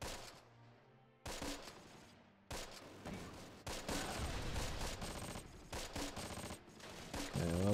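Rapid volleys of small-arms and machine-gun fire from a Close Combat battle at Blankenberg Bridge, coming in dense bursts split by short silences.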